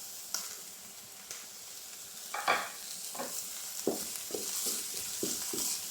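Finely chopped spring onion sautéing with green chillies in a pan, a soft background sizzle broken by spatula scrapes and taps that quicken into a steady stirring rhythm in the second half.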